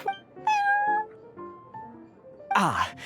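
A cat named Prince in Genshin Impact gives several distinct meows in close succession, a final longer one rising and falling, clear and alone.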